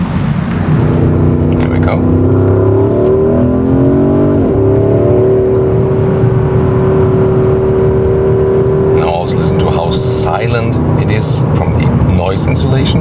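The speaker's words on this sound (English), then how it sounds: "It also indeed has this, you know, high frequency turbo sound." Porsche Cayenne Turbo Coupé V8 accelerating, a loud steady engine drone with rising tones and a high turbo whine, heard from inside the cabin under continuous conversation.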